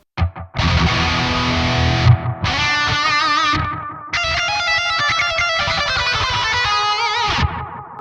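Distorted electric guitar chords in a heavy tone ring out loud and sustained, with echoing delay repeats and a lingering reverb tail between phrases.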